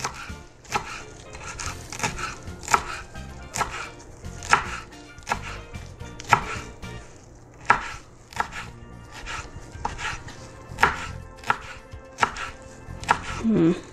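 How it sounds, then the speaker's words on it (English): A knife mincing fresh cilantro on a cutting board gives rapid, evenly spaced chopping knocks, close and crisp, continuing steadily throughout. "it asks for cilantro. And we're also gonna mince it this way as well."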